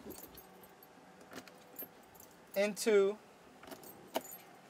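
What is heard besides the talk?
boat keys jangling as they are put into the key switches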